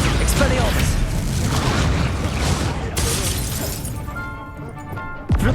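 Bombarda and Confringo spell blasts in Hogwarts Legacy gameplay, dense booming explosions and crashing debris layered together, loud and close, with a shouted voice and a whooshing tail at the end.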